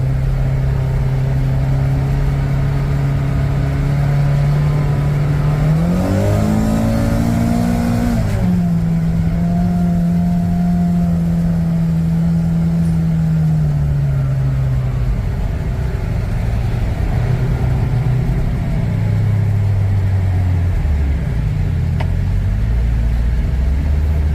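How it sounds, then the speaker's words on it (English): A Kawasaki Ridge side-by-side engine brakes downhill, a loud, continuous close engine drone whose pitch rises briefly, then settles and falls away, with no talking. "Downhill engine braking for the small hills we have seems to work effectively."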